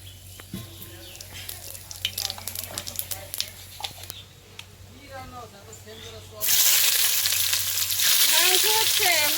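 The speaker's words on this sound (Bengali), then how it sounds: "কড়াই গরম হয়ে গেছে, সরিষার তেলটা দিয়ে দিচ্ছি।" Mustard oil hitting a hot wok, light crackling and clatter at first with a voice talking over it, then a sudden loud, dense sizzle that holds steady through the rest.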